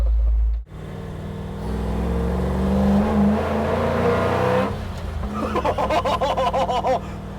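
A 1963 Ford F-250 pickup truck engine idles low, then revs up and holds a loud, throaty roar, settling into a choppy, pulsing idle.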